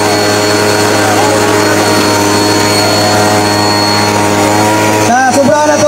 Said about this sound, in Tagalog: Inigdagan na sa motor.